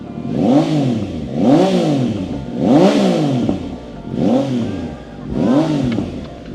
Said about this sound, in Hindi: करेरा लगा हुआ है, काफ़ी बढ़िया एग्जॉस्ट है, लॉन्ग कैन के अंदर है, आपको बेस भी अच्छा खासा देखने को मिल जाता है।